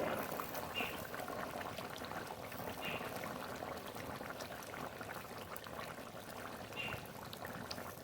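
A pot of rohu fish curry broth with softened potatoes simmers at a gentle boil, giving a soft, continuous bubbling hiss with a few faint plops, fairly quiet and close.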